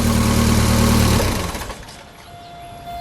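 A 1995 Lotus Esprit S4s 2.2-liter four-cylinder engine runs loudly at close range for about a second, then shuts down and its rumble fades away to a quiet background.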